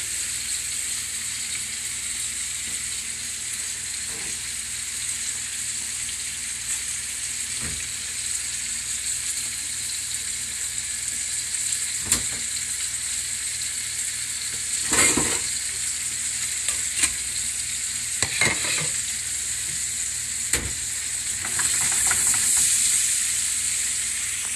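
Dough fries in a hot pan of extra virgin olive oil with a constant bright sizzle and hiss, broken by occasional scraping and clinks as it is moved around, close up with no speech.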